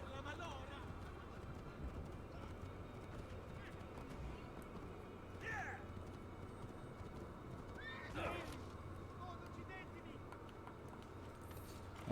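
Horse in Assassin's Creed 2, set in Italy, gives two short whinnies a few seconds apart over a low ambient game bed, with clip-clopping hooves and faint talk in the background.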